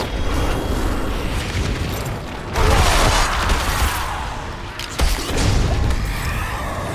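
Explosions in Diablo 4 during Infernal Hordes waves, heavy booming blasts that build to loud surges around the midpoint and again near the end, dense and continuous with combat noise.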